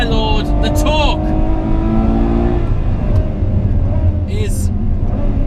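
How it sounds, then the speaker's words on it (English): A Ferrari 812 Superfast accelerates hard from close range, its engine wailing upward and cracking through quick dual-clutch gear shifts before the revs settle into a lower rumble. "I'm sure you can hear those gear shifts, they're explosive"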